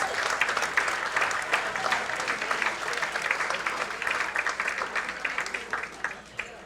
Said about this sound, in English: Let's really give them a round of applause.